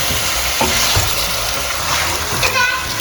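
Chicken sautéing in a pot over previously sautéed aromatics for Filipino binakol, a dense, continuous sizzle with stirring scrapes and some wet splashing, loud and close throughout.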